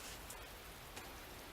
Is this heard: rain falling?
yes